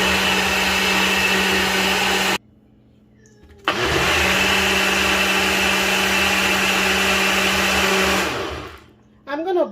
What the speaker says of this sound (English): let's say you blend everything for like 3 to 4 minutes, that's fine.